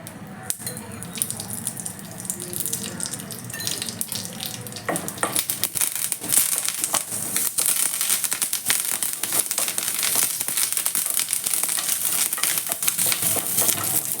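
Peanuts and sesame seeds fry in a little oil in a pan, a dense crackling hiss that builds after a few seconds and then continues loud and steady up close.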